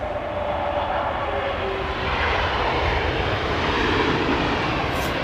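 Airliner with Pratt & Whitney engines at London Heathrow, a steady loud jet roar that swells gradually and holds, with no voices over it.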